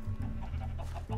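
A Minecraft chicken makes short soft clucks near a bush, faint and brief under a low steady hum.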